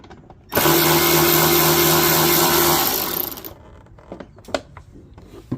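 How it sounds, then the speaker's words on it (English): Power driver backing out an 8mm bolt from the motor cover of a Troy-Bilt Mustang XP zero-turn mower: a loud, close whir lasting about two and a half seconds, then scattered metallic clinks and taps. "So you're gonna take off this bolt down in here."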